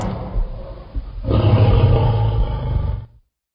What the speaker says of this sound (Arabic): ألف أسد